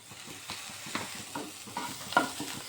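Chili paste and spices sautéed in a pan for pabda fish curry, a soft sizzle under repeated scraping stirs of a spoon, about six distinct strokes close by.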